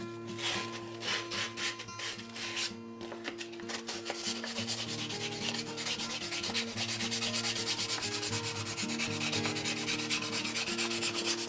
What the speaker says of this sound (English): I'm turning it with one hand as I move the sandpaper back and forth on the tip.